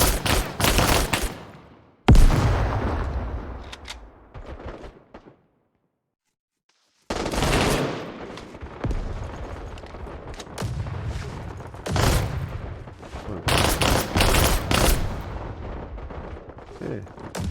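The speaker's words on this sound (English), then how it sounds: "Oh, shooting." Rapid bursts of video game gunfire during a combat mission, loud and dense, cutting out briefly for a few seconds of silence before resuming in clustered volleys.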